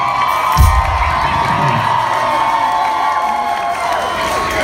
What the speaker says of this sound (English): give him a golf clap